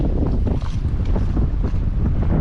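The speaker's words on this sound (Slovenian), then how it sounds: "zdaj se spet veter obrnil, tako da imamo spet malo valove" Strong wind buffets and roars around a sailboat at anchor near the Ninigo Islands in Papua New Guinea, with waves slapping the hull beneath it. The noise is loud, steady and continuous, with deep low-end rumble and no voices.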